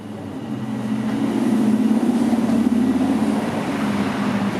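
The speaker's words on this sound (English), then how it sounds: "there's the subway that's down below these grates here" A subway train rumbles beneath street grates at College and Yonge in downtown Toronto during afternoon rush hour, a steady low roar that swells and holds under the city noise, with no talk.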